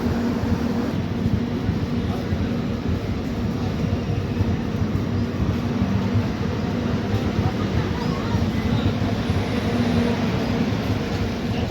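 Onboard the Dikshabhumi Express pulling away from Pandharpur station, a steady loud rumble and hum of the moving train carries on throughout without breaks.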